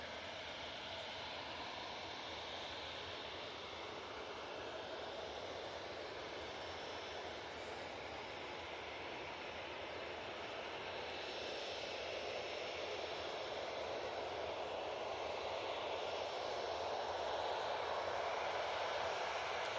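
An Aer Lingus airliner passes over Manchester Airport, a faint, distant broadband engine rumble that slowly swells louder toward the end.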